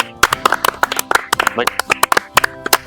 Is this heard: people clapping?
yes